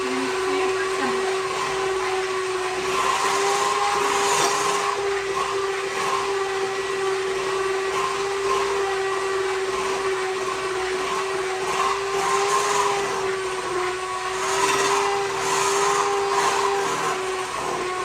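A steady electric mixer whirs nonstop through butter cake batter, a continuous motor hum with a strong even tone that dips and surges slightly as the beaters work, loud and close throughout.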